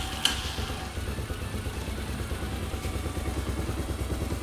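A rebuilt Hawk 250 motorcycle engine idles close by with a low, steady, slightly uneven putter, preceded by a brief sharp clack at the start.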